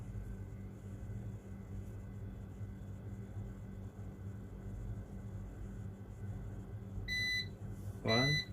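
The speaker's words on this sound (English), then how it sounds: "That is normal beeping for UPS battery backup." A UPS battery backup sounds one short, sharp electronic beep near the end, followed by a brief chirp, over a quiet background hum.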